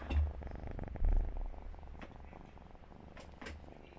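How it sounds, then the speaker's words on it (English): A cat purrs steadily close to the mic, a low rumbling pulse with louder swells near the start and around one second, carrying on alone with no talk over it. "Can you hear my cat purr?"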